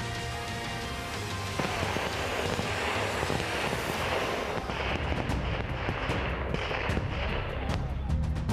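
Dense, sustained bursts of heavy gunfire and booming blasts during a Ukrainian border guard military exercise, loud and continuous, with wind buffeting the microphone throughout.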